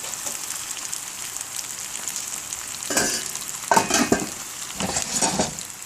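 Food fries in oil in a home kitchen, giving a continuous close hiss that swells into louder crackling bursts near the end, with no one talking.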